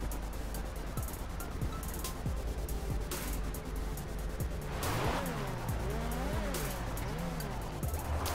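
A car driven in GTA V Online, with a steady engine drone, squealing tires and skidding slides during turns, loud and continuous with no voices.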